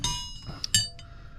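Snap-On obstruction wrenches clinking together as they are lifted from a bucket of tools, a few bright close metallic chinks and clanks in quick succession.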